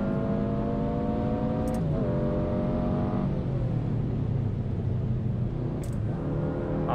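A 2022 Subaru WRX engine in a driving simulator, driven on the Tail of the Dragon road at Deals Gap, revs hard and climbs in pitch, then drops sharply twice as it bangs up through the gears, loud and continuous with no talk over it.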